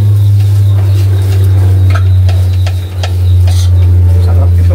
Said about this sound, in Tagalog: At haluin natin ng mabuti.